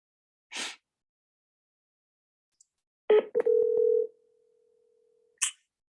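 Telephone starting a call: a short burst of dialing tones, then a steady tone ringing for about a second before fading, with brief noisy bursts before and after in an otherwise silent room.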